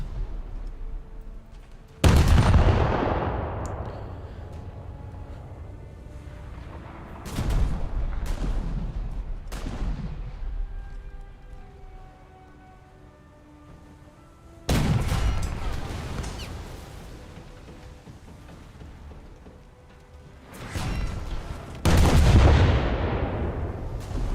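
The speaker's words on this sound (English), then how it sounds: "And those 14-inch guns, while they do reload slowly, hit very hard." Heavy 14-inch naval guns firing in a warship battle game: four deep, thunderous booms spaced several seconds apart, each with a long rumbling decay, over low ambient hum between shots.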